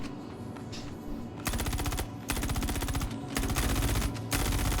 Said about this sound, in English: they're all firing at each other, it appears